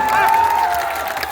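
A large crowd at a political rally applauds loudly in a brief burst, with clapping and some cheering blended together and a tonal whistle-like sound sliding through it.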